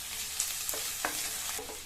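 Two medium sliced onions sizzle steadily as they sauté in hot ghee and oil, a continuous hiss broken by a few soft stirring scrapes, with no talking.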